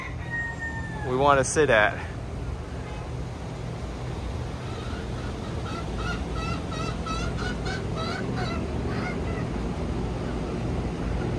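A rooster gives a short crow, followed by scattered chicken clucks and calls at an outdoor Cuban restaurant in Key West, mixed with a person talking nearby.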